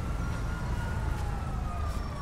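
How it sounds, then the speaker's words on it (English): Ambulance siren on a code 3 run in GTA V, a steady wailing tone sustained over low engine rumble, moderately loud and continuous. "An ambulance en route, responding code 3"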